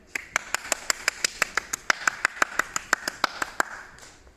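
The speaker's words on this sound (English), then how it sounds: "Clap, please." A single person claps steadily and evenly, around twenty claps at a regular rhythm, close and fairly loud, with no other voices, framed as audience clapping before a show begins.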